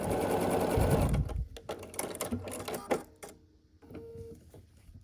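A sewing machine joins quilt pieces for a table runner, running loud and close for just over a second, then stopping, followed by softer clicks and handling noises.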